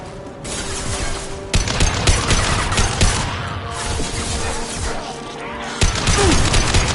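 Gunfire from Mass Effect 2, a continuous loud clatter of overlapping shots and impacts with sharper bursts standing out, with some voice in the mix.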